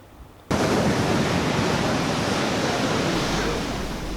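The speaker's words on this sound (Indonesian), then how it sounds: "gelombang tinggi disertai angin kencang" Heavy surf pounds the Aceh coastline, Bireuen regency, as high full-moon tide waves arrive with strong wind, a dense continuous roar that bursts in loudly after a brief quieter start and holds steady throughout.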